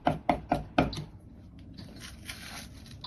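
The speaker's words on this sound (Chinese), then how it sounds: "大蒜稍微多一点，1小块生姜，拍破后剁碎就可以，不用剁得太细。" Knife chopping crushed garlic and ginger on a board, four sharp knocks in quick succession followed by softer scraping and faint rustling.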